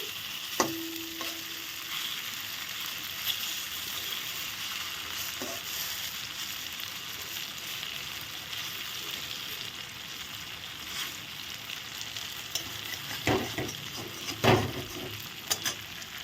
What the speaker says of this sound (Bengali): সবগুলো সুন্দর ভাজা হয়ে গেল